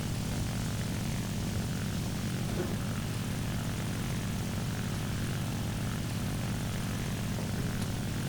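Propeller aircraft engine in the War Thunder video game, a steady loud drone that holds unbroken and alone throughout, with no talk.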